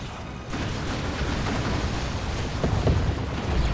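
Plasma cannon fire in Warhammer 40,000: Dawn of War 2 sets off a heavy, rumbling blast that swells and lingers for several seconds amid ongoing battle noise, with no talk over it.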